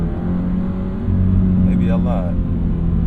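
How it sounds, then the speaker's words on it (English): A 2025 Toyota GR86 Hakone Edition with its factory-upgraded exhaust hums in a low, steady drone from inside the car, the tone swelling slightly as it pulls on, with someone speaking briefly over it. "This exhaust sounds good too with that upgraded exhaust from the factory."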